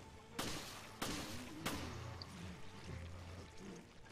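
Gunfire in the video game Resident Evil: Revelations: three sharp, loud shots roughly half a second apart ring out over a steady ambient game background with low droning tones.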